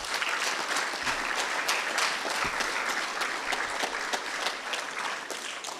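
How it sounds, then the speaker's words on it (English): A school audience applauds loudly through a student achievement assembly, a thick continuous clatter of many hands that eases slightly toward the end. "let's give her a big round of applause as well"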